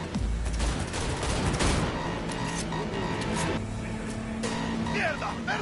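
Gunfire rattles during a high-speed car chase in Cyberpunk, with bursts of shots over a roaring engine and road noise, as voices shout in the middle of the action.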